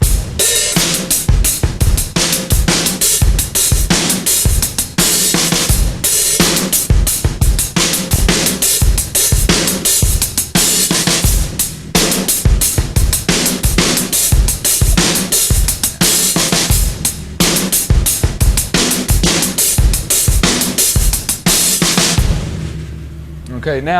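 A drum kit plays a two-bar metal-style pattern at a slow tempo, kick and snare hits steady and close while the hi-hat opens and closes in places, loud and alone.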